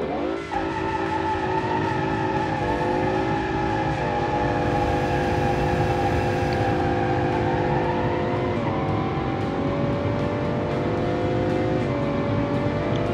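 A V12 engine in a muscle car body accelerates hard, its loud, steady roar climbing in pitch through several gear changes, with no talking over it.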